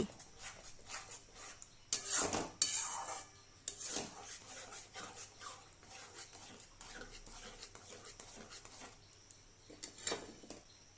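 Spice masala for a doi katla curry is stirred and mixed in a pan, making quiet, irregular scraping and rubbing strokes close by, with a few louder scrapes and no talking.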